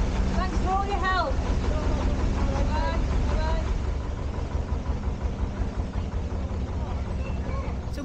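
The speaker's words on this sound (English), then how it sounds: "I think there's a boat coming in anyway" Low, steady rumble of a canal boat's engine as it comes in nearby, with voices talking over it early on and the drone continuing throughout.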